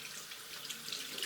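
Water runs steadily from a faucet into a sink during hand washing, a continuous close hiss and splash with no talking.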